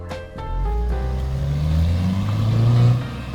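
An Audi engine pulls hard while driving, a steady loud engine drone with rising pitch as it accelerates, heard from inside the car with no talking.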